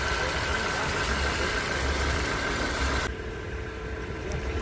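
A car engine idles with a steady, rough hum, loud and close, dropping slightly in brightness partway through.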